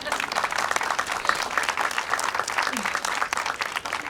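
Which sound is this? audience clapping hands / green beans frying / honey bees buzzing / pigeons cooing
audience clapping hands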